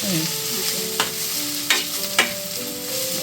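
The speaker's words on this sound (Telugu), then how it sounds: "ఆయిల్ వేసి ఫ్రై చేసేస్తాను" Steady frying sizzle of prawns in oil in a pan with a few sharp spatula clinks and stirring scrapes, close and continuous, with no talking.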